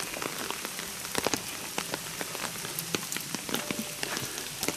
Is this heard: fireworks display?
no